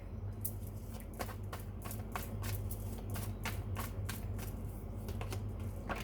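Tarot cards are shuffled in a steady series of soft, crisp riffling bursts, quiet and close, with faint background hum.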